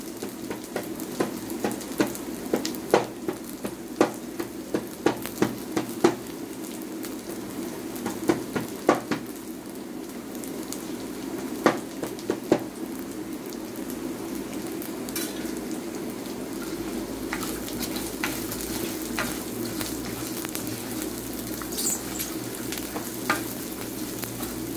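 Onion and garlic frying in a pan make a continuous moderate sizzle, punctuated by repeated scraping and tapping of a utensil as they are stirred to brown evenly, with no talking.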